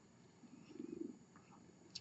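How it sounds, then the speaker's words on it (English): A pet cat named Remington Steele purrs softly while climbing onto a lap indoors, a faint low rumbling that swells briefly in the middle over quiet room tone. "And he's purring."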